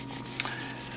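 Wet sanding of a car's clear coat by hand, a steady close rubbing scrape that pulses in short strokes with brief pauses, heard on its own without talk.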